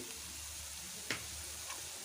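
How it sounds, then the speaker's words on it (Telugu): Turmeric and ginger garlic paste frying in hot oil, a soft, steady sizzle at low volume with a brief louder crackle or stir near the middle, no voices. "ఇలా దీన్ని పోపులో అయితే మంచిగా వేగనివ్వాలి అండి"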